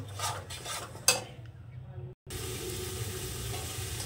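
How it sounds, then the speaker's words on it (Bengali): Tomato masala frying in a pan with a spatula scraping and clinking at first, then a quieter gap and a brief dropout before a steady sizzle resumes, close by. "টমেটোর জলটা আমার যাতে মরে যায় সেইভাবে কষে নেব"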